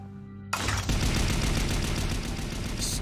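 Gunfire in an anime episode, a dense burst of rapid shots that starts abruptly and continues steadily and fairly loud for a few seconds with no talking.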